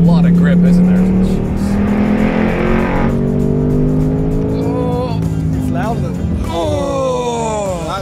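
A 2024 Ford Mustang Dark Horse V8 pulls hard on a race track, its engine roaring loud and close inside the cabin with rising and falling revs through gear changes, as people talk over it.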